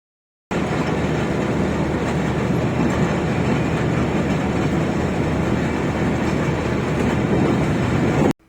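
The 14 Down Awam Express pulls away from a Pakistani railway station, its carriages rolling past close and loud in a steady, continuous rumble with clattering wheels that holds the whole way, then cuts off abruptly.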